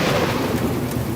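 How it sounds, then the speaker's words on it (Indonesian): Heavy rain falls steadily in a dense, loud hiss with a low rumble underneath, with no voices. "Hujan teman-teman."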